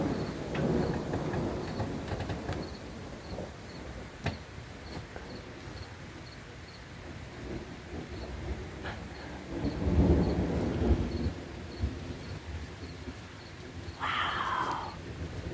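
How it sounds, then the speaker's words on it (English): Thunder rolls low and long through a valley, swelling into a deep rumble partway through, with steady rain pattering on surfaces the whole time and a sharp crackle near the end. "and thunder. It's still rolling through the valley."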